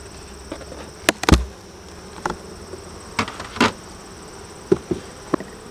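A steady, faint insect buzz of honeybees in a honey super of a hive, with occasional sharp knocks and clicks from handling.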